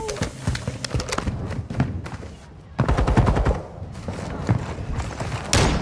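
Rapid bursts of automatic and single gunfire in the video game Call of Duty: Modern Warfare 2, loud and dense, with repeated sharp cracks in clusters and brief pauses between volleys.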